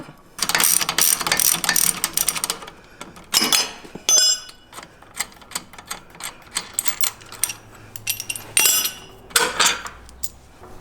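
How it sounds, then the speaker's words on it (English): A 19mm ratchet working loose a shock absorber bolt on a Jeep JL Wrangler: bursts of rapid metallic clicking from the pawl, close by, with clinks of tools between strokes. "we're going to use a 19mm ratchet and a wrench"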